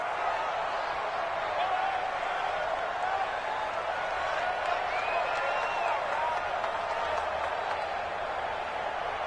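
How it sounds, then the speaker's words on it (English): A stadium crowd roars steadily in a PS4 American football video game, a dense, continuous wall of cheering and applause under commentary. "the crowd getting into it as we come up on a big 3rd down"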